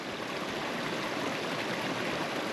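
A river runs over stones in the Yorkshire Dales near Kettlewell, a steady broadband rush of flowing water that stays close and even throughout, with no voices over it.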